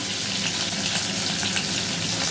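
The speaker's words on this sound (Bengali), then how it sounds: "পনির তো খুব বেশি ভাজে না, পনির বেশি ভাজলে না শক্ত হয়ে যায়" Long slices of paneer fry in hot oil in a pan, giving a steady, dense sizzle close up with no talk.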